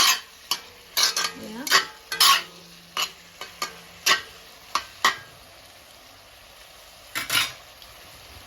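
Fish curry ingredients fry in a pan: sharp bursts of sizzling and a utensil scraping and stirring come in short irregular strokes, close up and loud, with a brief spoken word.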